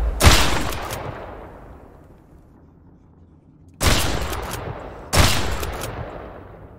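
Gunfire in the survival video game Mist Survival comes as three loud, close shots, the first near the start and two more in quick succession later, each with a long decaying echo tail and no talking.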